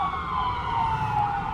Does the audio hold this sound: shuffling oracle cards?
no